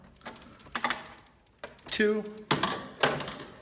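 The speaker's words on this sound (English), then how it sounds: "Just like the other one, simple, twist it out" A metal knockout is twisted out of a 100 amp electrical service panel with a screwdriver, giving a few sharp metallic clanks and scrapes near the end, with someone talking over them.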